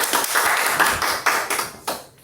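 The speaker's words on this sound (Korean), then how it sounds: "여러분의 뜨거운 박수로 강의를 청하겠습니다" Audience members clap to welcome a lecturer on Yi Sun-sin's leadership, a short, sparse burst of a few nearby hand claps at uneven intervals.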